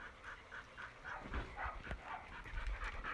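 A dog named Lavrusha whimpers and whines while guarding its food, a string of soft repeated whines with some low rumbling and shuffling close by.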